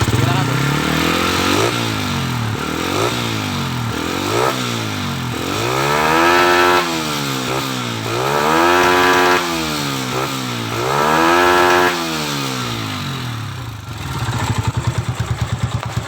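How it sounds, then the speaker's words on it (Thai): A Honda Sonic 125 motorcycle with a custom-built exhaust, loud and close, revved up and eased back several times in a row, then settling into a rough, throbbing idle. "เดี๋ยวผมจะเบิ้ลให้ดูนิ่มๆนะครับผม"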